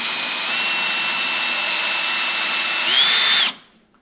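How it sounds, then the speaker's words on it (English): A power drill whines steadily at high pitch while boring a hole in a metal gear, rising slightly in tone near the end before spinning down abruptly to silence. "Line up your drill bit to that existing punch mark and go ahead and send there."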